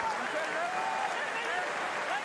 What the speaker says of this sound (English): Crowd willing them forward.